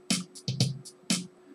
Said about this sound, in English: maybe we go to Pops 1, which sounds like this.